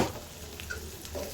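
Shrimp fry in hot oil in a pan, a soft, steady sizzle with faint stirring scrapes, quiet and close with no talk.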